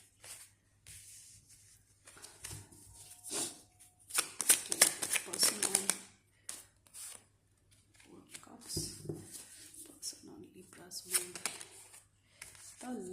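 A deck of tarot cards being shuffled in bursts of papery riffling and slapping, loudest in the middle, with quieter handling and gaps between the bursts.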